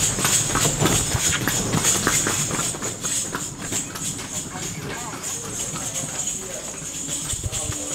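A horse's hooves clip-clop steadily on a street on Gili Trawangan island, with a brisk, even rhythm close by, under background chatter and street noise.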